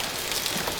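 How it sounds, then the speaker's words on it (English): Heavy monsoon rain pours in a dense, continuous hiss, loud and close throughout the brief moment. "You just gotta love the monsoonal rains."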